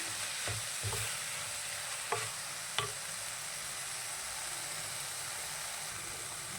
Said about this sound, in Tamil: இதையும் சேர்த்துட்டு நல்லா வதக்கி கொடுக்கலாம் கொஞ்ச நேரம் நல்லா வதங்கி வரட்டும்